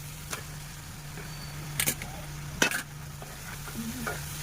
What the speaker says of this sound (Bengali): এখন আমি চিকেনটা ঢেলে দিচ্ছি।